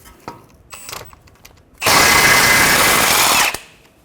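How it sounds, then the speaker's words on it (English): Power tool with a 17mm socket spins off the ball joint nut on a 2014-2019 Toyota Highlander front suspension, a loud whirring burst lasting under two seconds after a few light clicks and clanks. "Remove the nut on the end of the ball joint."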